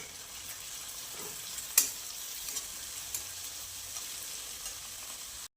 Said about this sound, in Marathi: आता हे छान असं मिक्स करून घ्यायचं परत